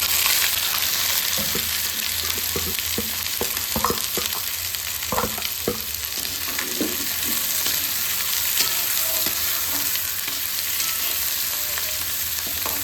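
Onions hit hot oil with cumin seeds and sizzle loudly and steadily, with clanks and scrapes of stirring scattered through the first half and no talking.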